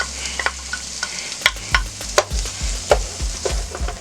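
Onions sautéing in butter, a close, steady sizzle broken by brisk repeated spatula scrapes and knocks against the pan, with no one talking.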